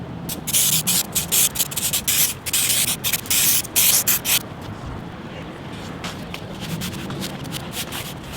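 An adhesive spray can sprays the back of the vinyl and the foam of a Land Cruiser 80 series door panel in several short, hissing bursts, then softer rubbing and handling noises follow.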